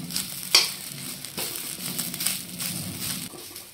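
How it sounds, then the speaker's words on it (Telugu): Flower petals frying over a medium flame in a pan, a steady close sizzle with crackling and scraping stir sounds throughout, one sharper clatter near the start. "ఆ రెక్కలు మొత్తం వేస్తున్నాను. వేసి మీడియం ఫ్లేమ్లో ఒక 5 నిమిషాల పాటు బాగా వేగనివ్వాలి"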